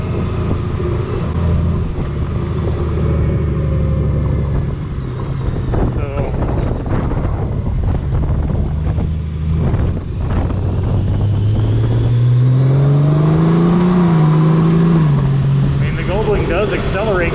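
A 2019 Honda Goldwing DCT motorcycle rides along with its engine note rising as it accelerates, heard under steady wind buffeting on the microphone, with a climbing tone near the end.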